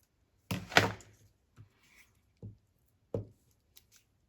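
Scissors trimming paper for a mixed-media art journal page: a cluster of crisp snips followed by a few isolated cuts, close and fairly quiet in a still room with no talking.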